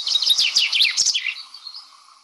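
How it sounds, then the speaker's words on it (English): A chaffinch sings one bright, rapid descending trill of sweet chirps lasting about a second. The song ends in a fading, sustained high tail, clear and close against a quiet background in a grassy, daisy-dotted British setting. "That's what chaffinch sounds like."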